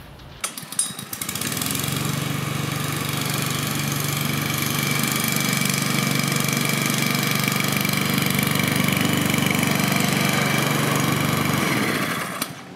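A petrol Stiga lawn mower engine starts and runs steadily at a constant drone for about ten seconds before cutting off.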